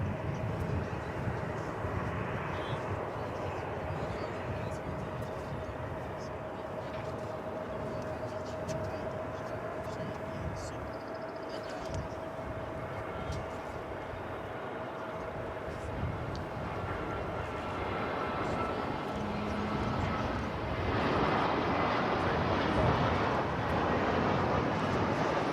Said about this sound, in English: So 777 action for you on Runway DFW.